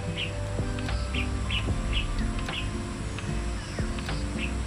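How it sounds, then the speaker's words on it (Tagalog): Wild birds on Mt. Banoy in Batangas, giving short, regularly repeated high chirps about every half second, moderately clear over a steady outdoor background hum and a few faint clicks. "Mayroon tayong sounds ng ibon"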